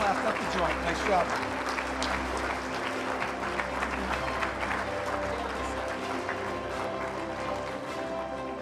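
Sustained loud clapping from an awards ceremony audience, dense and continuous, with voices and cheering mixed into the applause.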